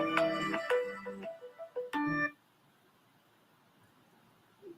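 A telephone ringtone for a radio call-in line sounds in two close bursts of bright, stepped electronic tones, then cuts off, leaving quiet hiss with a faint blip at the very end.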